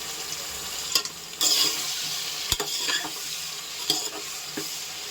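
Brinjal with salt sautéing in a pan sizzles steadily while a spoon stirs and scrapes against the pan in a few sharp, close strokes.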